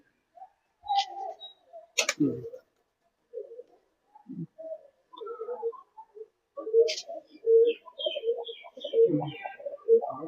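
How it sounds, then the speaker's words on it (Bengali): Pigeons of a Punjabi flying breed coo in soft low bursts at close range, with scattered chirps, a sharp click or two and some talk between the calls. "এই পায়রাগুলো দেখো"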